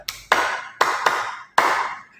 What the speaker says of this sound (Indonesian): Bapak Ibu bisa ganti yang itu dengan cara tepuk ya